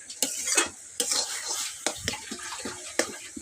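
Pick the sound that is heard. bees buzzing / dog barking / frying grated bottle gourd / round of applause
frying grated bottle gourd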